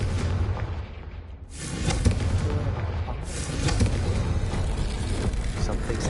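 A Confringo fire spell cast in Hogwarts Legacy lands as a loud booming blast, followed moments later by a second heavy burst over a dense rumbling game backdrop.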